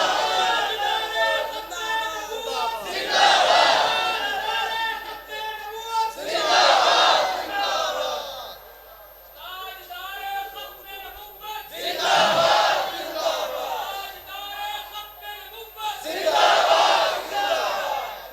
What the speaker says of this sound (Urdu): ایک باری پھر نعرہ مارو